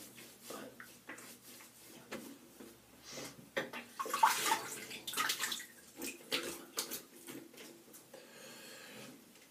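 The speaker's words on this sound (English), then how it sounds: "I'll just wash this alum off my face." Tap water runs and splashes in a bathroom sink while a face is rinsed, with intermittent gurgles and swishes that come and go over about ten seconds.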